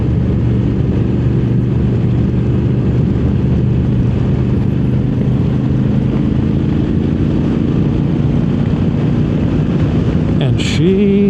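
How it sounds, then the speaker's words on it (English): Strong wind buffeting a motorcycle-mounted 360 camera on a road ride aboard a 2024 Honda Africa Twin Adventure Sport DCT, a steady loud roar under a low engine drone throughout. "I'm blowing around on this video because the wind is that strong."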